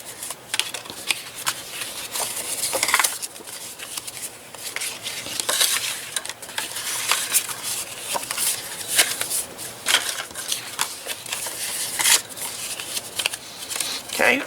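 Paper being pre-folded and accordion folded for a cascading mini album, a run of close crisp creases, rustles and taps under a speaking voice.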